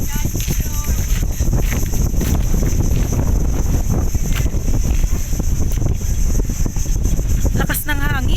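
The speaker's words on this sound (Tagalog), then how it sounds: "Lakas ng hangin." Strong wind batters the microphone during a rainy, stormy day outdoors, producing constant loud roaring buffets and rumble with no break from start to finish.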